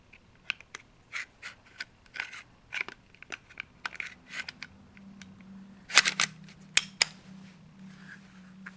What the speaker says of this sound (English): let's put this thing back together